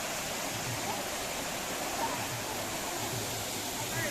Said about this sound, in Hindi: खूब सुंदर जलप्रपात दासिंगबाड़ी वाटरफॉल